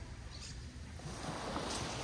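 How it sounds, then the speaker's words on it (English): Ocean waves wash onto a beach on a cold day, a steady, soft rushing surf with no clear breaks, heard alone and fairly faint. "I love the sound of the waves while I'm breathing."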